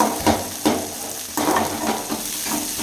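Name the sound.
sautéing green chillies in a pan for noodles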